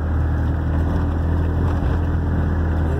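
A Ligier X-too microcar with a new engine drones steadily while driving, a loud, constant low engine and road roar filling the cabin without pause.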